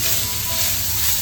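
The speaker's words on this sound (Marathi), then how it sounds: "कांद्याचीच मस्त आपल्याला फोडणी द्यायची. कांद्यामध्येच ना आपल्याला ग्रेव्ही मस्त परतवून घ्यायची." Chopped onions fry in hot oil for a gravy, giving a steady, close hiss of sizzling with no pause and no voices.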